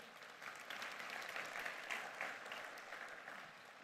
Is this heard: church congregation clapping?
yes